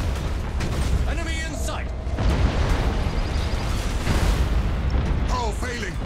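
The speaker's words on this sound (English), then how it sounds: "Initiate Thunderhawk bombardment." Heavy explosions from a Thunderhawk bombardment in the space battle game Battlefleet Gothic Armada 2, a dense continuous rumble of blasts and booms, with a radio-style voice speaking briefly over the top.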